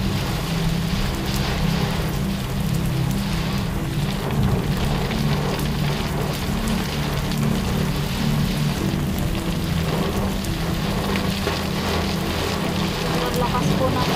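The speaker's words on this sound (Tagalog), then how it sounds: "Lakas po ng ulan." Heavy rain pours steadily and loudly, a dense continuous hiss with a low rumbling undertone, unbroken for the whole stretch.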